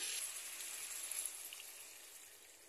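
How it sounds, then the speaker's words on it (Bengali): Water poured into a pan of Bengali chili curry (morich jhol) makes a soft, steady hissing gush near the mic that slowly eases off over a few seconds, with no talk. "এখন আমি এটার মধ্যে জল দিয়ে দেবো।"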